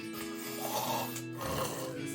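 A voice imitating choking, coming out as snore-like rasping gurgles in two bursts, one near the start and one about midway, close up with no words spoken.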